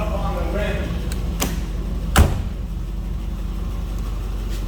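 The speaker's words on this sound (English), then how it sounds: "Love the doors. They shut like a tank." The door of a 1995 Range Rover Classic 25th Anniversary Edition is swung shut with one solid, heavy thud, preceded by a couple of lighter clicks, over a steady low outdoor rumble.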